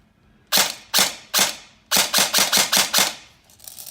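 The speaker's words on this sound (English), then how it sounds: "Give it a couple shots. See what you think. All right, do some on semi." DT4 light machine gun firing on semi-auto, eight sharp close shots, three spaced out and then five in quicker succession, loud and alone with no talk over them.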